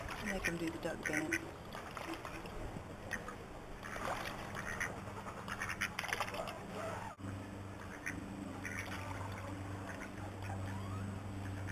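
Ducks quack and squabble at a lake, loud and close throughout, with splashing water and a voice talking over the noisy flock.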